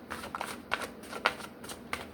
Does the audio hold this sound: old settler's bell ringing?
no